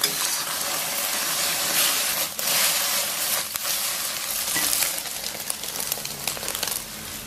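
Eggs frying in moderately hot oil in a wok, a steady close sizzle and crackle running throughout with small splashing bursts, no voices.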